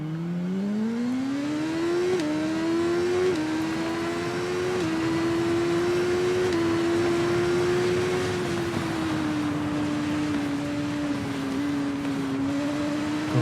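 Racing motorbike engine in TT Isle of Man 2, droning steadily near and loud with rising and falling pitch as the rider shifts gears and brakes, heard alone throughout.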